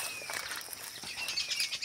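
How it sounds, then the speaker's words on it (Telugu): Birds chirp in a forest near a cave, a dense, high twittering that carries on without pause at moderate loudness over faint background hiss. "అక్కడైతే పక్షులు కిచకిచ అని వస్తున్నాయి."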